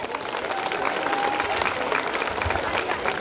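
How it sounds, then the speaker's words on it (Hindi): Audience applause at a school annual function, steady, lively clapping from a crowded hall with faint voices mixed in, continuing evenly throughout. "तालियां बजाएं।"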